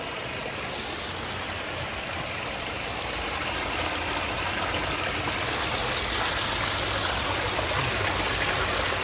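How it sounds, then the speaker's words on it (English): Three waterfalls spill into a Japanese-style koi and turtle pond with a biofalls, giving a steady, full rushing wash of water that holds constant and swells slightly louder toward the end, with no voices. "All 3 different waterfalls producing 3 different sounds."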